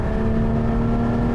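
Engine of a 2020 Porsche 718 Spyder, heard from inside the car as a steady, loud and close drone with a faint rise in pitch, alone with no talk.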